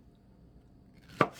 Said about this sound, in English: So, I'm going to cut that in half.